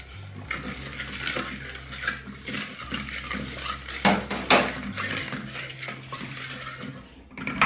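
Metal spoon scrapes and clanks around a pot as curry with salt, turmeric and tamarind for a bottle gourd stew is stirred briskly, close, busy and continuous with some liquid slosh.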